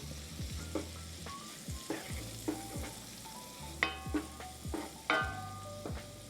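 Minced garlic and onions fry in butter with a soft, steady sizzle. A spoon stirs them, scraping and clinking against the pan in irregular strokes. The sounds are quiet and close.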